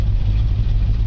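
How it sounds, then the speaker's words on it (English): A 1964½ Ford Mustang engine idling just after a cold start, a loud, steady low rumble that fills the short moment without a break. "Even after a year and a half of sitting, my good old Mustang still starts."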